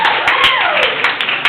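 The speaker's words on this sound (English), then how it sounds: "This is where you clap." An audience claps after a poem recitation, a loud close burst of hand claps with separate slaps standing out and a voice-like tone sliding through the middle.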